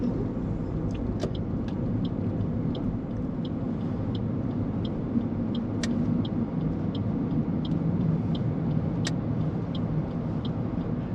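A learner driver's car on a New Zealand road around Sylvia Park, with a steady engine and road rumble throughout as it slows and turns around in a U-turn, a few faint ticks over the continuous drone.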